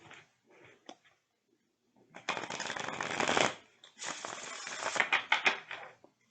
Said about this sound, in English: I'm going to shuffle some of these cards.